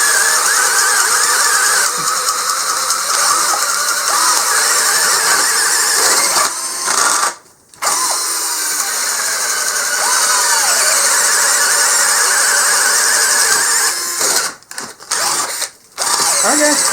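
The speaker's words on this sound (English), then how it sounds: "it takes a lot more torque to get a speed bit to go through wood than a normal spade bit" Hyper Tough 20-volt cordless drill boring a speed bit through wood, a loud sustained high-pitched whining motor with grinding bite, pausing briefly twice near the end as the trigger is released and squeezed.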